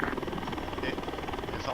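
Helicopter in the ArmA 3 military simulation game, a steady, loud rotor and engine drone filling the scene with rapid rhythmic chop, while voices talk over it.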